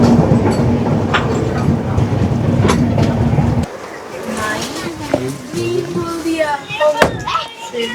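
A passenger train departs Sealdah station, a loud low rumbling engine drone that cuts off partway, followed by clattering wagon noise, a few knocks and people talking nearby.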